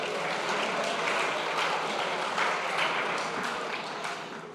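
A dense, steady round of applause fills the room throughout, many hands clapping together at a fairly loud level and tapering slightly toward the end, from the audience at a Space Day 2024 event.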